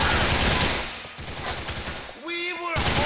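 Burst of gunfire in Grand Theft Auto 4, loud and dense rapid shots filling the clip, with a short tonal game sound in between and a voice speaking near the end.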